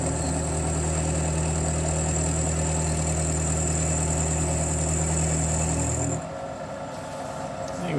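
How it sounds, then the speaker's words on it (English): A 3/8 milling cutter spins at 600 RPM on a Kasto EBS 400 power hacksaw under rebuild, giving a steady machine hum and whine that runs evenly for about six seconds, then drops away to quieter background. "We've got this cutter running on 600 RPM. This is like a 3/8 cutter."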